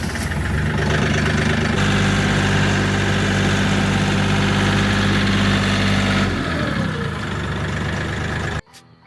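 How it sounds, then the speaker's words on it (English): A tractor engine idles steadily and loudly close by in a rural setting, a continuous low rumble with mechanical vibration that holds for about six seconds, shifts slightly, then cuts off near the end. "The perks of living in rural areas, tractors."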